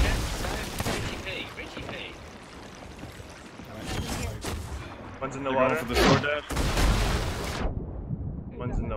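Ship cannons boom in bursts in the pirate video game Sea of Thieves, several heavy blasts spaced across the scene, the loudest near the end, with players talking over the gunfire.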